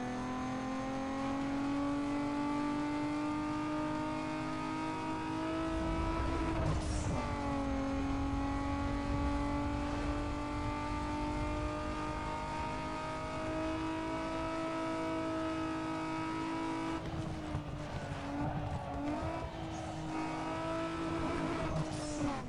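A race car engine in Need for Speed Underground 2 drones loudly at steady high revs, with a sudden gear change and burst of noise partway through and another shift near the end. Nobody speaks.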